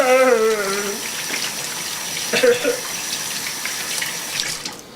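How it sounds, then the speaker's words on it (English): Tap water runs steadily into a kitchen sink during hand washing, a close, even hiss and splash that carries on after a brief bit of voice at the start. "I like washing my hands"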